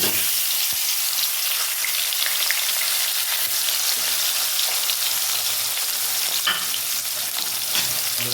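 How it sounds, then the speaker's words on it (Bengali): Shol fish, rubbed with salt and turmeric, fries in a little mustard oil in a wok, giving a steady, close crackling sizzle with scattered pops throughout. "প্রথমে আমি কড়াতে সর্ষের তেল দিয়ে মাছটা ভেজে নেব"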